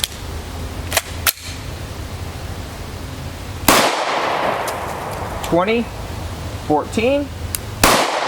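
FN Five-seveN pistol firing through an EFK Firedragon 5.4 inch barrel, a few sharp, loud single shots spaced seconds apart, each with a short echoing tail, and someone speaking briefly between them.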